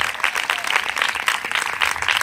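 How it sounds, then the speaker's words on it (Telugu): A gospel meeting congregation at Bommuluru clapping in praise, a dense, continuous patter of many hands with a loose rhythmic pulse, close and fairly loud throughout. "చప్పట్లు కొట్టి ప్రభుకు స్తోత్రం చెప్తాం."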